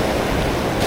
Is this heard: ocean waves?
yes